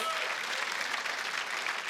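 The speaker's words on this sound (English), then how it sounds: "a warm round of applause" A television studio audience at a football grand final show breaks into steady, dense applause, a continuous wash of many hands clapping at moderate volume with no gaps.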